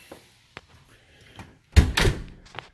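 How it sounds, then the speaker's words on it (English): A house door is pushed shut in a quiet interior, a few faint knocks and handling sounds leading to a solid thud and rattle of the closing door, near and fairly loud. "didn't mean to leave this door open"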